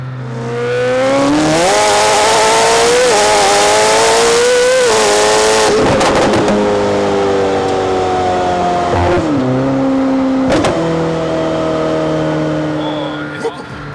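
A Gintani-tuned, one-off McLaren Senna supercar in ESC Dynamic mode revs loudly up close. Its engine note climbs and falls in sustained surges, with brief sharp cuts near the middle, and talk can be heard underneath.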